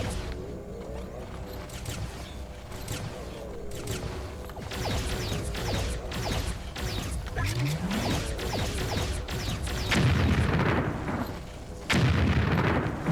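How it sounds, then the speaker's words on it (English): An explosion in the Disney Infinity 3 video game, heard among a busy stretch of game-battle effects, with booming impacts and blasts, a descending whoosh and a loud burst near the end. "The explosion happened over here."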